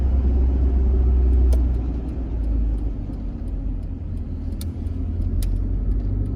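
Car exhaust rumbling steadily up close while the car climbs a hill on a narrow country road, a deep continuous drone with a swell of revs at the start, no talk.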